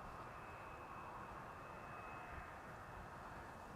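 A Nippon Cargo Boeing 747-8 freighter at Amsterdam Schiphol Airport gives a faint, distant, steady jet roar with a thin high whine, continuous throughout.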